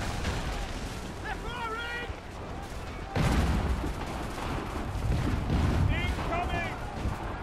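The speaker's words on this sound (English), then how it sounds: "They're firing!" Gunfire from soldiers in Assassin's Creed 3 crackles through dense battle noise, with a heavier burst of shots swelling mid-clip over a constant rumble of game sound.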